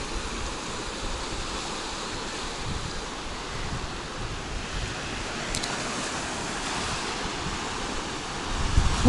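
Sea waves at Anapa wash steadily against the shore in a continuous rushing roar, with wind buffeting the microphone and no voices.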